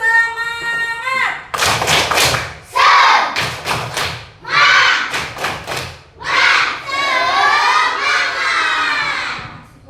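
A class of schoolchildren performs a rhythmic clapping chant, with a burst of sharp, close claps and thumps alternating with loud children's voices shouting in unison in a classroom.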